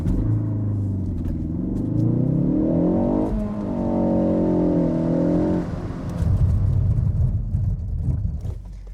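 A Ford Focus ST with 286 horsepower accelerates hard from inside the cabin, its engine note climbing steadily through the revs, dipping briefly at a gear change, then rising again into a loud rumbling roar.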